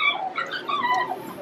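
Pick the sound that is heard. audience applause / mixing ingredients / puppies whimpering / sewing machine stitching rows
puppies whimpering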